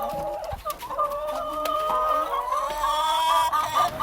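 Chickens cluck and murmur continuously close by inside a wooden poultry cage, overlapping calls forming a busy, steady chatter with no talking.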